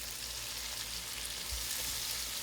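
Roux browns in a pan on a seafood étouffée stovetop, giving a steady, close hiss of sizzling oil and flour with faint stirring, no voices present.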